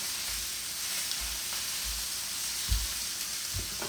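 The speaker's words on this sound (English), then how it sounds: "It's putting a nice sear on them" Flat iron steaks sear in a hot skillet with a loud, continuous sizzle and crackle, and a few dull low bumps from the pan along the way, with no talking.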